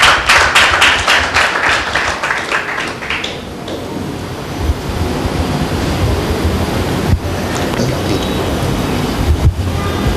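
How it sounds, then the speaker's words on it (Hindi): A congregation at a Tuesday church meeting bursts into loud, dense applause for God's glory. The clapping is close and sustained for about four seconds, then thins into a softer hissing wash of lingering claps. "एक जोरदार ताली देते हैं परमेश्वर की महिमा के लिए"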